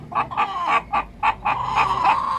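Bielefelder and Malines turkey-head hens cluck in a henhouse, a run of close, loud, rhythmic clucks in short bursts with no talking.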